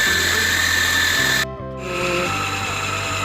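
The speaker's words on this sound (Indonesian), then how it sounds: "Kalau saya pakai alat food processor seperti ini sampai semua bahan itu tercampur rata." A food processor grinds fish dough for siomay in a continuous motorized whir that cuts out briefly then restarts, with the motor pitch shifting under the load of the thick mixture; no one speaks.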